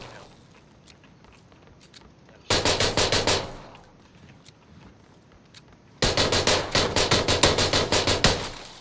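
Pistol gunfire in the PUBG video game, loud rapid bursts of shots in two volleys, separated by a quieter gap with faint ticks and clicks.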